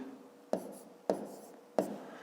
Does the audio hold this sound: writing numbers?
yes